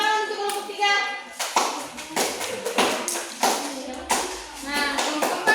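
A classroom of students applauding a presenting group, a burst of many hands clapping in an uneven close patter mixed with children's chatter and voices throughout.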